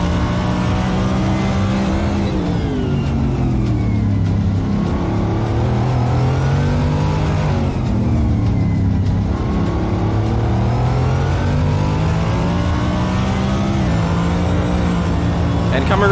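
DTM race car in a sim racing game at Okayama braking hard into a hairpin and dropping to third, engine roaring loud and continuous with falling then rising pitch through downshifts, under a commentator's voice.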